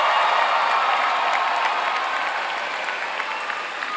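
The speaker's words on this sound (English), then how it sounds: "Please join me in a round of applause for this awesome class of 2025" An audience at a class of 2025 graduation ceremony applauding, broad sustained clapping from a large crowd that stays steady and slowly eases off, with no talk.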